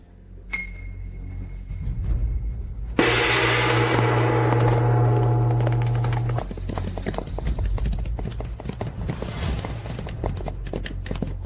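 A general's warhorse gallops with quick, rhythmic hoofbeats, loud and close, while a bright sustained tone and heavy background sound swell partway through.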